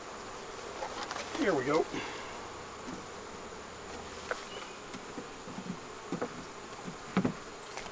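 Honeybees buzz in a dense, continuous drone around an opened hive, with individual bees zipping close past, while a person speaks briefly.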